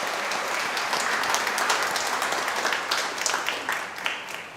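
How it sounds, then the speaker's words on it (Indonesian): Congregation at a Catholic Mass for the Solemnity of Christ the King applauding the students who served, a steady wash of many hands clapping that holds evenly throughout, with faint murmurs underneath. "Kita beri tepuk tangan untuk mereka."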